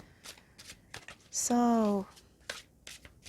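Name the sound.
tarot cards being shuffled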